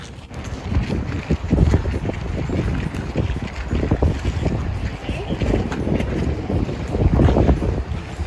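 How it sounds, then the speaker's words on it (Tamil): Strong cold sea wind buffets loudly and continuously on the Moroccan coast, gusting and roaring in uneven surges with a watery wash beneath it. "எப்படி காற்றடிக்குது பார்த்தீங்களா?"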